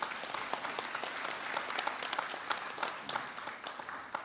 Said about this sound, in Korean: 축하의 박수를 보내주시기 바랍니다.